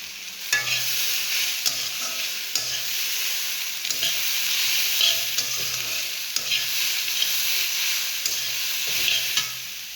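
Spices and green chili fry and get stirred in a pan, a steady close sizzle broken by repeated scraping strokes of the spoon in an uneven rhythm, with no voices.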